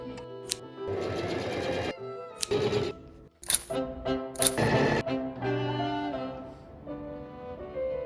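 Sewing machine stitching fabric for a hat project, running in short loud bursts separated by brief pauses, close and alone without talk.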